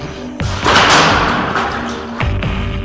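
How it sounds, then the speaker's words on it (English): A debris impact cannon fires a 2x4 into building materials meant for tornado safe rooms: a sharp loud thud with a rushing burst, followed by further heavy thumps and impacts. "The debris impact cannon is also used to test building materials"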